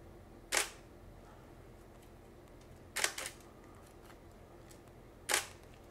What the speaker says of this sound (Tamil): ஸோ இது குவாய்ட் மோடு, கேமராவை ஆன் பண்ணிக்குவோம், ஒரு ஃபோட்டோ எடுத்து பார்ப்போம்